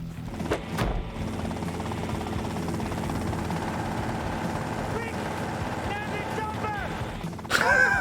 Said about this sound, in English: a toy helicopter.